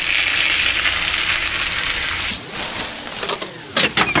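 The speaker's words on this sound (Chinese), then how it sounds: "一样全程小火煎。" Egg tofu pieces frying over low heat in a stainless steel pan, a dense, continuous close sizzle with a few louder crackles toward the end, no talking.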